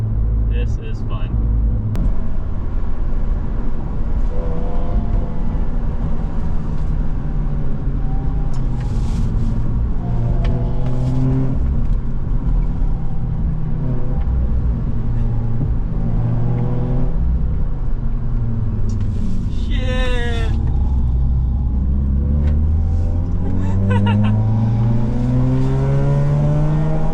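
Mazda RX-8 cruising along a backroad at night, its engine droning steadily from inside the cabin with shifting pitch as it speeds up and eases off, while people talk over it throughout.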